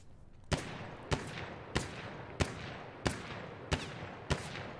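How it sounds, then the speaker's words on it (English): Rifle fire in Battlefield 1, seven evenly spaced single shots roughly every two-thirds of a second, crisp and fairly faint with no talk. "Continue to shoot 7 or 8 rounds."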